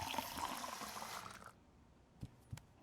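Water pours onto plants from a container in the video game Fall of Porcupine, a close, splashy stream for about a second and a half, then a couple of soft drips and taps.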